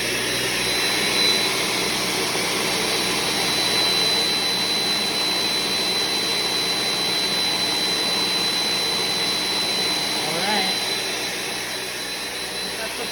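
A blender runs at full blast on a peanut-sesame sauce with garlic and ginger, giving a loud, steady motor roar that holds throughout and eases only slightly toward the end.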